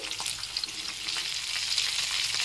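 Tilapia fish pieces fry two at a time in hot oil for a Bengali fish curry, giving a steady, close, bright sizzle with faint crackles throughout and no talking.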